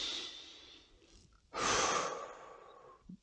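A person taking deep breaths: a soft inhale, then a longer, louder, airy exhale, close to the listener with no talking.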